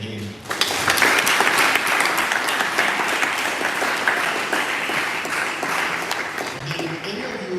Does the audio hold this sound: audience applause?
yes